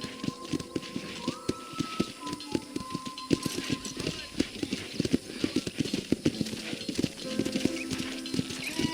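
Horse hooves clip-clop in a steady rhythm as a horse is ridden at a ranch in the video game Red Dead Redemption, with talking voices over the hoofbeats.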